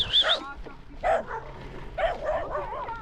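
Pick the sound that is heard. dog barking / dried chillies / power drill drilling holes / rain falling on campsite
dog barking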